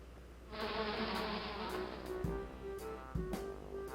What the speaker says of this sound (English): Why did I hear bees?